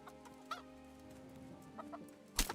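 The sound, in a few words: chickens clucking in video game Kingdom Come: Deliverance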